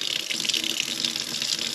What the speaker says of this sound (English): I'm going to use that same measuring cup and I'm going to add warm water to it. Basically just tap hot water, hot.